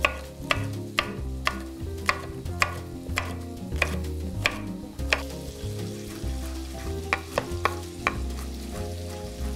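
Green pepper sizzles in a frying pan for empanada filling while a utensil stirs it, with regular sharp scraping taps over continuous crackling and a soft melodic music bed.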